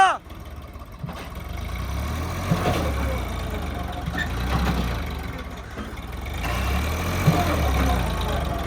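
Swaraj 855 and Farmtrac 60 tractors strain against each other in a tug-of-war, their engines holding a steady low rumble with surging pushes while a crowd shouts and talks throughout.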